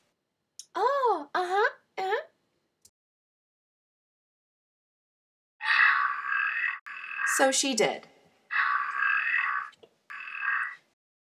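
Frogs croak in loud, buzzing bursts, several calls in a row after a pause, preceded by a voice reading aloud.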